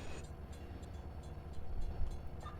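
Passenger train rumbling in a Ukrainian-set GTA game, a faint, steady low rolling rumble with light clatter and no talk.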